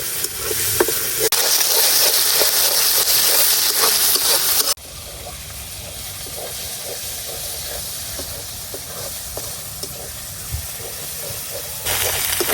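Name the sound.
ground onion and garlic paste frying in oil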